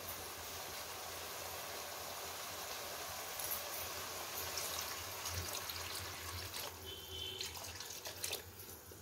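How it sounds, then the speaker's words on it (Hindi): Water poured into a pan of softened tomatoes while cooking suji upma in a home kitchen, a steady trickling pour running continuously at close range with no talk. "एबे उपमा हिसाब रे पानी देबा।"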